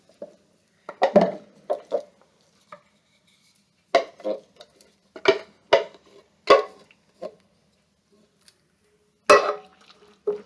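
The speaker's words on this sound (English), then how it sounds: "So I'm going to add the chili beans" Chili beans being emptied from a can into a cooking pot: scattered close clinks, knocks and wet scraping sounds in uneven bursts separated by short quiet gaps, with no talking.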